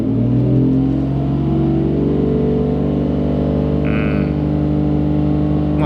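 A Toyota Chaser JZX100's 1JZ engine, being brought back after an accident and an oil-leak repair, holds a steady rev of about 3000 rpm, a loud, close, even drone with a clear harmonic hum throughout.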